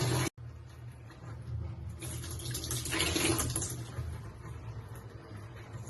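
Water rushes steadily from a newly plugged-in reverse osmosis system with high-flow filters, a close, continuous hiss that swells slightly midway.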